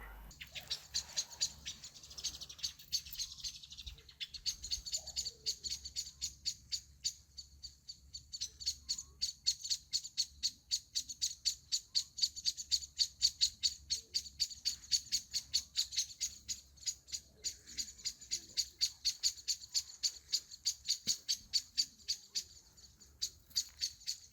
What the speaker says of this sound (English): Birds speak for the forest.